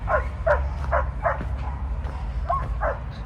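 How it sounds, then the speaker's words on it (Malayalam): Dogs kept on a fig farm in China bark and yip in a quick series of about seven short calls at a moderate distance, over a low background rumble. "ഈ ഫാമിന്റെ ചുറ്റുവട്ടത്തിൽ ഒരുപാട് ഇവര് നായ്ക്കളെ വളർത്തുന്നുണ്ട് കേട്ടോ"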